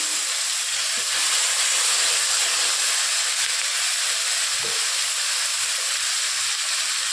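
A paste of ground cumin, chili and ginger sizzles in a pan of hot oil, making a steady, bright, close hiss that holds evenly throughout with no voices.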